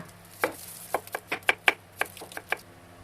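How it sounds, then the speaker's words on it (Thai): Knife slicing shallots on a cutting board, about a dozen crisp, sharp taps in an irregular quick rhythm, close and clear with no talk. "อันนี้เราก็มาเตรียมหั่น หอมแดงค่ะ"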